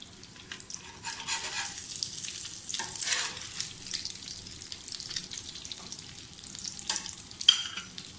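Mutton shami kababs fry in a pan over medium heat, giving a steady soft sizzle with crackling bursts and light spatter, with no one talking.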